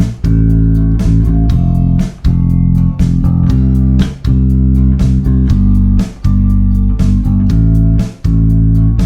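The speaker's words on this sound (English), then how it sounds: "what if we played 2 1/8 notes rather than a quarter note here? Well, that'd sound like this." A bass line plays alone, loud and close, in a steady groove over about four bars, with each bar closing on a quick pair of eighth notes before a brief gap.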